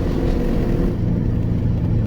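A loaded car-transporter truck's engine drones steadily as it climbs hills at around 60 miles per hour, a deep constant rumble heard from inside the cab with no talk.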